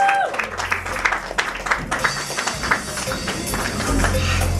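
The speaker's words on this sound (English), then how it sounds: "Please put your hands together as I welcome Ayotunde Ayo-Ibine, Campaign Manager, First Bank of Nigeria" Scattered applause from an audience at a brands-and-creators panel event welcoming a speaker, uneven and thin with irregular claps, background murmur and a low hum throughout.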